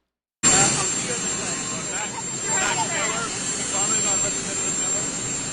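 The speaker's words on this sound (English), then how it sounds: "It was just a lot of jet noise." A loud, steady roar of jet engine noise begins abruptly and rumbles on continuously without pause, broad and harsh, with no talk over it.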